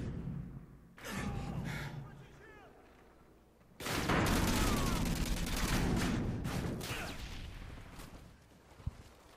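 Dense bursts of automatic gunfire and explosions from a Modern Warfare 2 domination match, loud and close, stopping briefly around the fourth second and then resuming as a sustained barrage.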